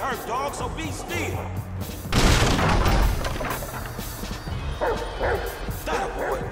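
Dog barking in the video game GTA V during a mission chase, several yips and barks mixed with game noise, gunfire-like booms and a voice talking over them.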